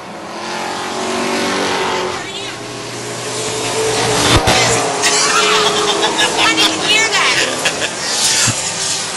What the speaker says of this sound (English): Now the 20 of Tom Carlo going a lap down to your leaders as they go into turn number three